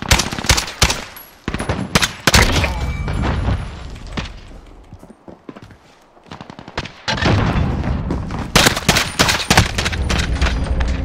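Loud, dense video-game gunfire rattles in rapid automatic bursts and single sharp shots, briefly easing midway before resuming in heavy volleys.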